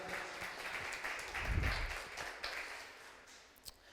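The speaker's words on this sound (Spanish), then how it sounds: "Por favor, les pido un aplauso para Martín Gamero." Audience applause follows a guest speaker's introduction at a Spanish-language presentation, a moderate, steady patter of clapping that swells briefly midway and then thins out toward the end.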